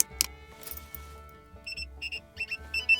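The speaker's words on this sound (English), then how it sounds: "you'll hear the beeps from the radar detector letting you know that power is now being given" A radar detector powers on with a few short electronic beeps and chirps, fairly faint, over a low steady hum.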